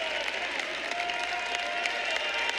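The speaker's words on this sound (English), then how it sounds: "Gets the crowd excited." A college wrestling crowd at an Iowa State versus Oklahoma 149 lb bout breaks into a brief burst of applause and cheering after a mat return, heard from within the arena.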